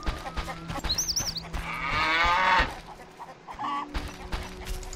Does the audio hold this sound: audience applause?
no